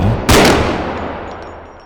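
A single sharp, loud gunshot from a gun in a realistic bodycam-style first-person shooter video game, followed by a fading echo and room tail.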